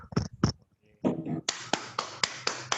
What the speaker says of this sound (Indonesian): Ya, kasih aplaus kepada si dia ya